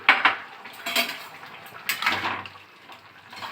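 Fish pieces tipped into a pot of cauliflower and potato curry, heard as a few clattering metal-on-pot knocks and a soft wet splash, moderately close with no talking.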